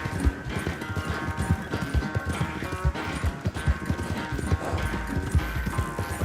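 Steady clip-clop of horse hooves galloping at a quick, even rhythm in the video game Red Dead Redemption 2, loud and continuous over a constant background rumble.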